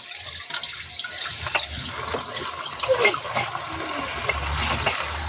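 Tap water runs steadily as kangkong vegetables are rinsed, a continuous close splashing with slight shifts in flow and no voices.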